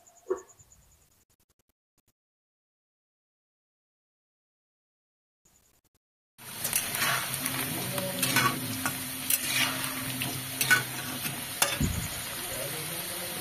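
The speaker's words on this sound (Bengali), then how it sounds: "আর এইদিকে আমি আলুগুলোও ভেজে নেব।" Potatoes fry in a pan for a Bengali beans curry, starting with a few seconds of near silence before a steady, loud sizzle breaks in and continues with stirring scrapes throughout.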